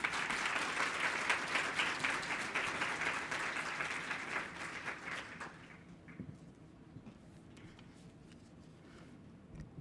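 A conference audience applauds as a speaker is welcomed to the podium: dense, even clapping from a large crowd that fades out over several seconds, leaving a quiet hall.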